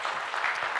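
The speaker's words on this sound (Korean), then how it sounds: "다시 한번 우리 리코더 팀에게 박수 한번 보내주시고" Church congregation at a Thanksgiving praise concert applauding a recorder ensemble, a brief burst of many hands clapping together, fairly loud and dense, with no speech.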